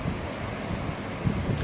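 Strong wind and heavy surf from a seaside storm in Turkey with waves up to three metres, heard from a balcony as a steady broadband roar with a few low thumps of breaking water.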